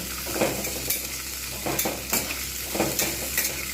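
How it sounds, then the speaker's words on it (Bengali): Peanuts washed with salt and turmeric fry in hot oil, a continuous close sizzle punctuated by regular scraping stir strokes roughly every second. "আমি লবণ হলুদ দিয়ে ধুয়ে রাখা যে বাদামটা সেইটা আমি কিন্তু ভালো করে ভেজে নেব"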